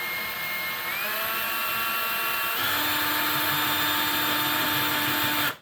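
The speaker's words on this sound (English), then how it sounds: "So you're going to go in the center of your antler and you're going to start drilling." A power drill fitted with a wood bit bores into a hard deer antler held against a wall: a continuous, loud, close whine whose pitch steps up partway through as the load changes, then cuts off abruptly at the end.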